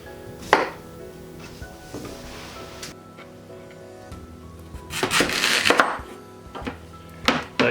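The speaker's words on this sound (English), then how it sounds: "the next step is to chop both of those" Knife chopping sweet potato and butternut squash on a board, irregular sharp cuts with some quick clustered strikes and scraping in between.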